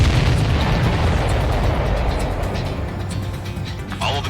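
Missiles blow up in the air combat game Ace Combat 7, a dense continuous rumbling roar of blasts with heavy low-end boom that fades slightly toward the end, loud and with no talking.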